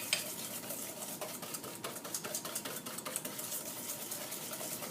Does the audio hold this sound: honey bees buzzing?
no